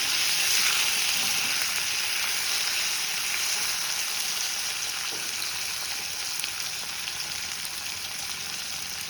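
Raw banana slices deep-fry in hot oil, a continuous bright, hissing sizzle with fine bubbling crackle, steady and close, without speech.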